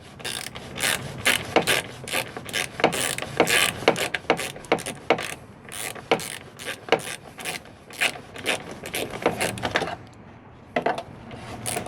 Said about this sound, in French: j'utilise le Cliquet Magnusson avec une douille de 10 mm longue. Hop, et je desserre.